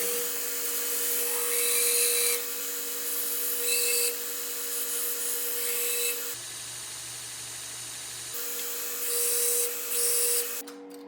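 Belt grinder cutting weld chamfers into marked steel parts, a steady loud motor whine with abrasive grinding that rises in bursts, briefly cutting out around the middle before starting again, with no talking.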